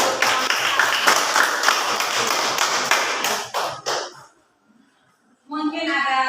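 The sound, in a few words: applause, clapping for a class group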